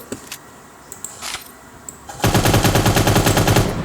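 Rapid automatic gunfire in the futuristic video game Cyber Hunter begins after a few scattered clicks and taps. The bursts are loud, dense and rhythmic.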